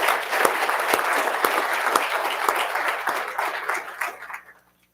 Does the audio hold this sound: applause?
yes